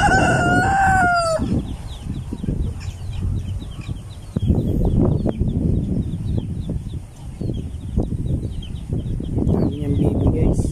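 A rooster crows loudly at the start of the clip at a duck and chicken farm in Buluang and Sta. Teresita. Then a steady mix of clucking hens and quacking ducks goes on, with scattered farmyard calls.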